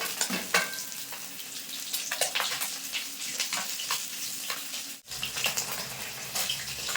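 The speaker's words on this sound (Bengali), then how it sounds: "মাছগুলো কিন্তু খুব সুন্দর করে ভেজে নিয়েছি এখন তুলে নেবো" Pabda fish frying in hot oil in a pan, a loud continuous crackling sizzle with stirring and turning noises, briefly dipping once before resuming, with no speech.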